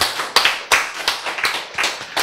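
Applause from a small audience at a Korean church lecture: several quick bursts of hand claps in uneven waves, close and fairly loud, with no talk.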